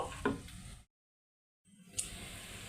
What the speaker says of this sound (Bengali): জাস্ট আমি এই মাংসটি এই চালের সাথে একটু ভেজে নিব